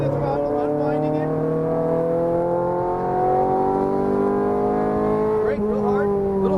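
A Ferrari F430 Scuderia engine drones steadily and climbs gradually in pitch under throttle, loud and close, with a brief sharper burst near the end.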